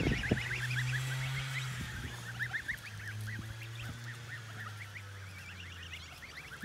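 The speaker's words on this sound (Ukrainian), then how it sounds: "ми трішки пасемо гусей." Geese honk on a village farm, a steady chorus of repeated nasal calls at moderate distance, layered over a low engine-like hum in the background.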